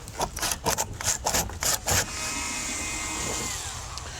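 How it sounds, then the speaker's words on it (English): A hand saw rasps through the last section of a diagonal deck board in a short run of quick, close strokes, then gives way to a steady whir of machinery. "That very last piece you got to cut out with the hand saw"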